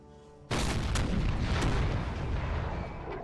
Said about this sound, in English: Yeah, they're fucking cannons. They're gonna be loud.